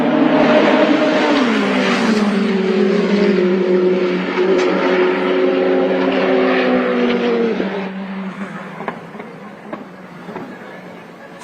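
A race car on a flying time-attack lap at World Time Attack Challenge, engine loud and close, revving hard with rising and falling pitch through gear changes, then easing off and fading toward the end.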